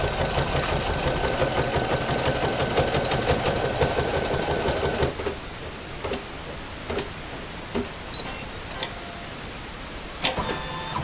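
An embroidery machine stitches on a shirt lapel with a rapid, steady mechanical ticking and whirring that runs loud for about five seconds, then gives way to sparse clicks and taps.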